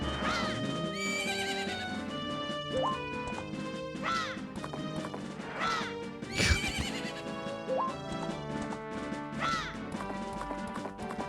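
A horse in a Zelda video game neighs and whinnies repeatedly over steady galloping hoofbeats and busy game music, the calls rising in sharp bursts every couple of seconds.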